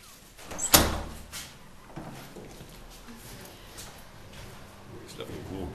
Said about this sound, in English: This is the door I think we're going to go in.